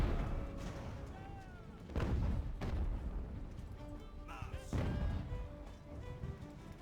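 Artillery fire in Ultimate Admiral: Age of Sail booms out in several heavy cannon blasts at irregular intervals, each a dull thud that fades into a rumbling battlefield din, with a voice talking over it.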